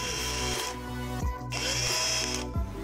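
A power drill whirs in repeated short bursts, driving screws into a plastic part of a Wltoys 12428 RC car, with motor pitch dropping as each screw seats, close and loud, no voices.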